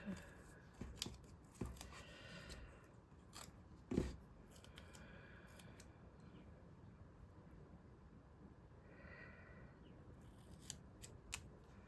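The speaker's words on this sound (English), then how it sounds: "My sticky scissors." Scissors snip through material in a series of short, crisp cuts, faint and close, with one louder clack near the middle.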